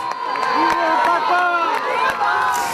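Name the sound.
pilgrims cheering the pope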